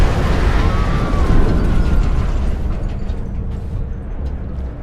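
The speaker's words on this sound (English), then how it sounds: "An explosion, but not one of ours." A loud, rumbling explosion in the video game Mars: War Logs, a deep booming roar that swells then slowly fades over a few seconds.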